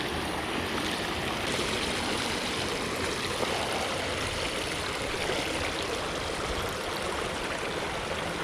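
A small suburban creek flows steadily, giving a continuous, fairly loud rushing and babbling wash of water with no pauses throughout.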